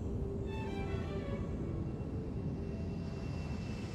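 A propeller or jet airliner from the early two-plane Emirates fleet drones steadily overhead, a continuous low engine roar with faint tonal whine that holds level throughout, no voices present.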